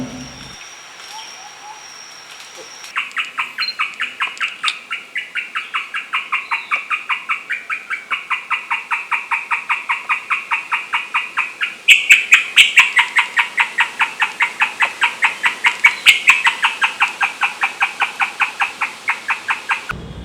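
Rapid, rhythmic trilling calls of forest birds repeat steadily at dusk, growing louder after a quiet start, with a second caller joining midway.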